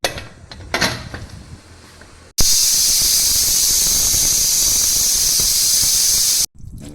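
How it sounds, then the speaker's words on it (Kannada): A pressure cooker cooking rice lets out a single loud, piercing steam whistle that holds steadily for about four seconds before cutting off, preceded by softer kitchen clatter. "ಇದನ್ನು ನಾನು ಒಂದು 5 ವಿಷಲ್ ಕೂಗಿಸ್ಕೊತೀನಿ"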